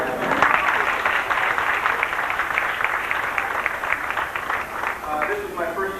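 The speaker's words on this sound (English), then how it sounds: "Can you applaud?" Audience applause at a 1990 St. Cecilia sports awards banquet, a dense, lively burst of clapping from a room full of people that continues evenly for several seconds, with some voices mixed in.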